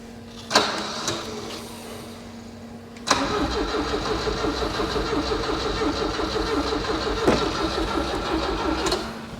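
Starter cranking on an abandoned Volvo P1800 left parked in a field for 25 years, a short crank, a pause, then a long steady churning crank close by, no voices.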